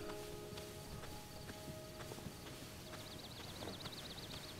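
Horse hooves in Zelda: Tears of the Kingdom, a quick run of evenly spaced clip-clops at moderate distance set against game ambience and a rising warbling tone, with no talk.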